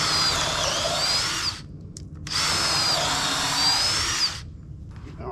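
A power drill bores a hole through a dump trailer wall in two sustained bursts, each a high, whining grind lasting about a second and a half, with a brief pause and a short blip between them.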